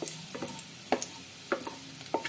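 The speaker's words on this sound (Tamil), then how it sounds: "பூண்டு வந்து நல்ல ஒரு வாசனை வரணும் வர்ற வரைக்கும் நல்லா வதக்கி விட்டுடுவோம்" Garlic sautéing in a pan while it is cooked for kurma, with a soft sizzle underneath and a few sharp scrapes of a spatula against the metal at uneven intervals.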